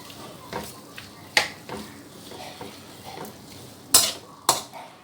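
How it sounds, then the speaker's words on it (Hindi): A spice mix of black pepper, salt and ginger-garlic paste is stirred for a spicy pizza topping, giving light scraping and a few sharp utensil clinks against a bowl, irregular and close. "देखिए, इसको अच्छी तरह से मिक्स कर लेना है।"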